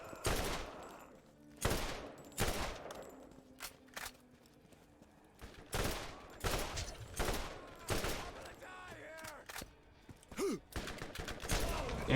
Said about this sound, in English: We'll go to the assault rifle for a bit.